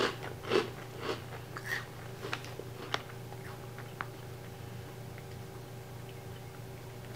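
Crunchy Garden Veggie Straws, tomato-flavored vegetable chips molded into straw shapes, bitten and chewed up close: a few sharp crisp crunches early, then quieter scattered chewing clicks.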